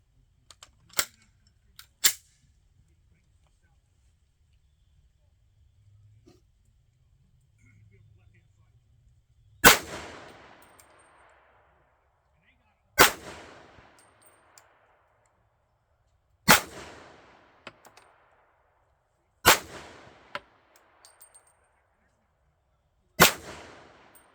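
A SIG P250 pistol fires 1776 brand ammunition with five sharp, loud, evenly spaced shots at roughly three-second intervals, each followed by a short ring-out, after a few small clicks and quiet handling earlier.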